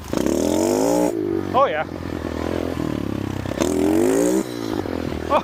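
A mini bike, an old machine once left for dead and brought back to running order, revs its small engine hard, the pitch climbing and dropping in loud surges as it pulls a wheelie, with people talking and exclaiming over it.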